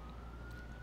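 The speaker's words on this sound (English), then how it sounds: "Like right now there's a siren going on outside that I can hear." A siren wails somewhere outside the building, a faint, steady, slightly rising tone heard from a distance over low background rumble, with no one talking.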